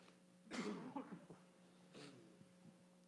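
A single harsh cough close by, followed a moment later by a softer second cough, over a low steady hum.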